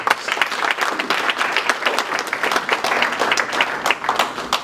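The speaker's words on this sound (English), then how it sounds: "I think for that you deserve a round of applause." An awards-ceremony audience at the Zim Excellence Awards bursts into loud, sustained applause, with many close hands clapping in a dense, lively rhythm.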